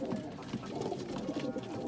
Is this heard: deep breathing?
no